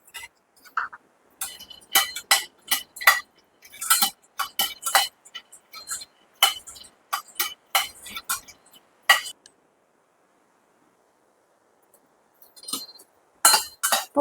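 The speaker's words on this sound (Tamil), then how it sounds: "திருப்பி அதே கடாயில் நம்ம வேர்க்கடலை வறுத்துக்கலாம்." Peanuts dry-roasted in a kadai rattle and click against the metal in quick, bright bursts as they are tossed. The clicks stop during a pause of a few seconds, then resume.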